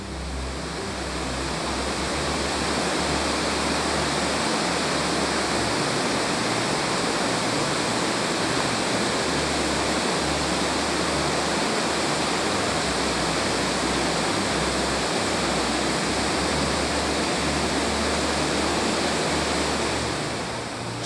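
A waterfall pours into a fast-flowing, turbulent river where salmon try to leap the falls, making a loud, steady, broadband roar that holds unbroken for the whole stretch without any voices.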